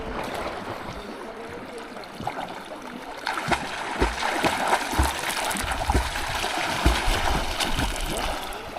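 Water of the Koyna river stirs and splashes around swimmers, a steady broadband wash with irregular splashes growing busier in the second half, close and fairly loud, with faint voices in the background.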